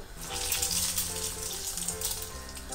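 Egg-coated potato slices sizzle in a frying pan, a steady hissing crackle that carries on without a break.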